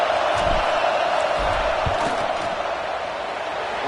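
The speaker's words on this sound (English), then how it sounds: "This crowd trying to do its part to get inside the kicker's head" A football stadium crowd roaring ahead of a field goal kick, a constant broad wash of noise with a few deeper thumps and shouts inside it.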